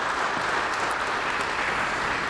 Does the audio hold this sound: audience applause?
yes